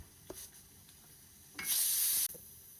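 Kashmiri-style tomato pickle with seeded tomatoes coming to a boil in a pot, with soft bubbling and light stirring, then a loud, sustained hissing sizzle burst before it settles again.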